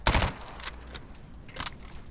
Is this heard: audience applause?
no